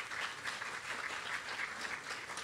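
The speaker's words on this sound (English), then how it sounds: "Let's give them all a round of applause." Sustained applause from an audience at a town hall on opioid abuse in Robbinsville, a soft, even wash of many hands clapping with a faintly pulsing rhythm and no voices on top.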